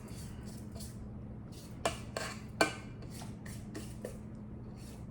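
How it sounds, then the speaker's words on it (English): Spatula scraping down the sides of a bowl of cake batter for grasshopper cupcakes, a series of short scratchy strokes with a few sharper knocks against the bowl, close by over a low steady hum. "scrape down the sides"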